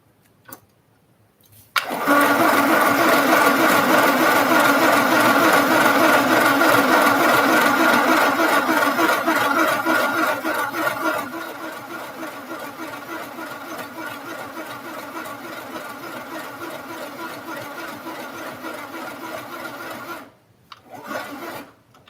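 A sewing machine runs a short zigzag stitch in one continuous burst of about eighteen seconds, loud and close, with a rapid whirring rattle that eases slightly partway through before stopping.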